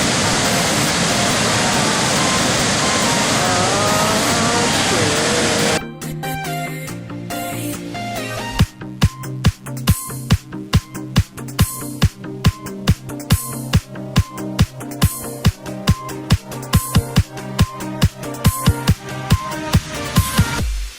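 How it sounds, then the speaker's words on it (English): Rushing water of Ban Gioc waterfall in Cao Bang, heard from a small boat, starts as a loud steady broadband roar, then gives way after several seconds to rhythmic music with regular beats and faint background noise. "Oh my god, there's water coming all over."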